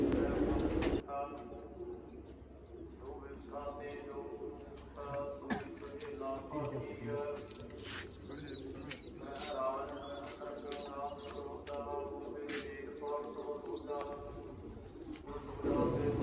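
Soft, low cooing from several pigeons repeats throughout, with occasional chirps and light rustling close by; no clear talk.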